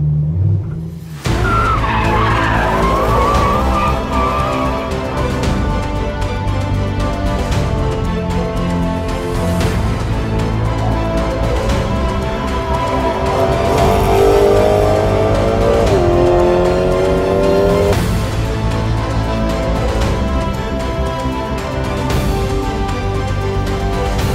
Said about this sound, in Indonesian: Kita injak gas lagi, dia bisa power slide yang indah dan jauh.